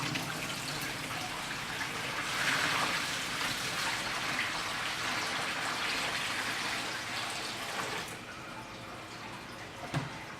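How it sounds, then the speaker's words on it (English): Water from a half-full bucket is poured carefully into the top tank of a produce pod, a soft, continuous splashing trickle that runs for about eight seconds and then stops, followed by quiet drips. "I'm just going to very carefully pour this water into the top tank"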